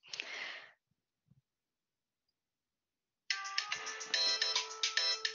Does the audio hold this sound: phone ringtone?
yes